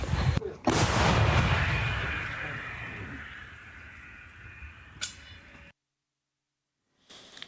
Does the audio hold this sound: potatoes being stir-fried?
no